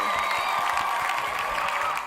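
Children in a Grade 1 science class clap for themselves, a brief, dense patter of many small hands that holds steady for about two seconds before easing off.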